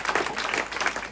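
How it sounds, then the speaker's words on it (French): Brief, moderately faint clapping from an outdoor theatre crowd at a seaside town summer show, a soft patter of scattered hands lasting only a moment. "Donc on peut vraiment les applaudir."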